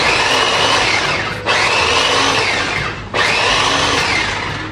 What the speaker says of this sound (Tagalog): Pupod processor na lang po natin para mabilis lang.